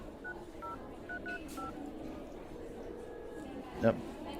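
Someone dials a telephone, and a quick string of short, faint keypad tones plays at low level with a soft background murmur.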